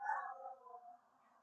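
Dogs give a drawn-out, whining, howl-like call from some distance. It is faint and fades out after about a second.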